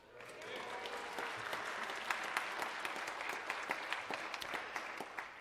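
A church congregation claps for their pastor's engagement during a sermon, dense applause building quickly and holding steady, with a few sharper individual claps standing out near the end.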